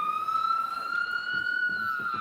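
Sirens ring out steadily in the background during a Nepal versus Scotland cricket match, a sustained tone under faint crowd noise.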